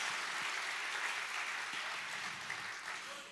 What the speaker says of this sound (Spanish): ¿Cuántos le dan un fuerte aplauso a nuestro pastor, que es el Señor Jesucristo, que vive y reina por todos los siglos?